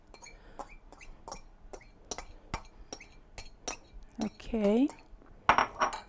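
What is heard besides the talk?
spoon stirring onions, vinegar and olive oil dressing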